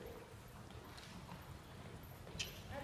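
Horse hooves clip-clopping at a trot on the footing of a riding arena during a dressage lesson, a steady moderate rhythm close by over a constant background hum, with no talking.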